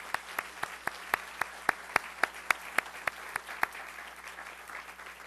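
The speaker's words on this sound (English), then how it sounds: "Please join me in giving a warm round of applause to all these folks." Audience at a business summit on entrepreneurship and small business growth clapping in a thin, evenly paced rhythm of sharp individual claps, fairly quiet and tapering off.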